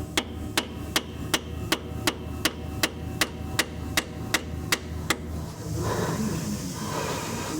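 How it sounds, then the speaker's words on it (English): A hammer drives a screwdriver into a pinion seal on a 1966 Buick Riviera. There are about fourteen sharp, evenly spaced metallic taps, close and loud, followed by a duller rustle as the strikes stop. "I just take a screwdriver and I come in, especially with one like this, I come in on the side here."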